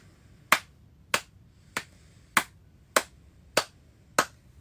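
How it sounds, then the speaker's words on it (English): Seven sharp hand claps at a slow, even pace, each a crisp close snap followed by quiet. "Well, let's clap."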